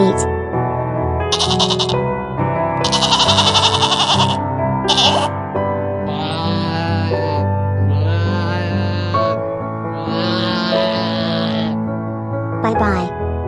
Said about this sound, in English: goats bleat.